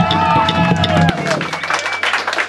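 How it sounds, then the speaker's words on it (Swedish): An audience at a live gig at Verket applauds a stand-in guitarist named Daniel. Sustained tonal music gives way to a dense wash of clapping and crowd noise that fills the rest of the moment. "Så en applåd för honom"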